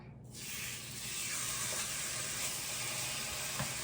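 Chicken sizzles on a hot electric griddle with a steady, bright hiss that starts abruptly and continues evenly, close and moderately loud, with no talking.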